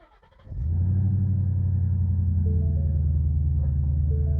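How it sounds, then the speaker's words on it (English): A 2016 Ford Mustang GT with a manual gearbox cranks and catches after a moment, then settles into a steady, deep exhaust rumble at idle, close by. "It's not the loudest exhaust, but it still sounds good"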